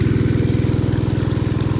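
A farm water pump engine runs steadily at raised speed, a loud, even mechanical drone with a fast regular pulse, close by and continuous without talk.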